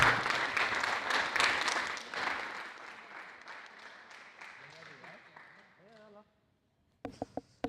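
Audience applauding the top three racers of a drone racing final, dense clapping loud at first and gradually thinning out, ending in near silence followed by a few short beeps.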